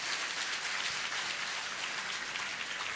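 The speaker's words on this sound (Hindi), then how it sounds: "जोरदार तालियां एक बार।" Steady, dense audience applause from a crowd at a motivational talk, loud and continuous for the full stretch with no voices over it.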